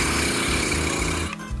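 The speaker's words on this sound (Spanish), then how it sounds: "Un calentamiento recomendado es el taladro o trino labial, que parece el relinchar de un caballo." A person does a lip trill vocal warm-up, blowing air through loosely closed, fluttering lips. It makes a loud, steady buzzing rattle that runs continuously and then changes briefly near the end.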